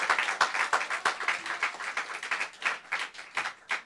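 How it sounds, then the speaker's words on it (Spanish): A church congregation applauds during a worship service, a dense, steady patter of many hands clapping at moderate level with no voices over it. "Oye, le daría un aplauso al Señor."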